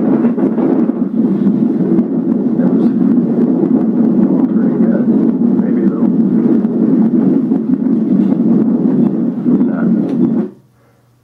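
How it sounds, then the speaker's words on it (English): Wind roars steadily across open ice on a Wisconsin River backwater during ice fishing, a loud, constant buffeting rush against the microphone that drops away abruptly at the end. "we sure do have the wind coming up."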